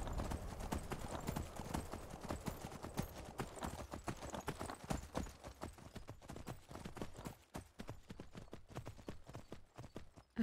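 Horse hooves clip-clop in a steady, brisk rhythm as a mount is ridden in the video game Skyrim, a continuous close trotting pattern that fades slightly toward the end.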